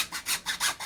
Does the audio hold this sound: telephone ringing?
no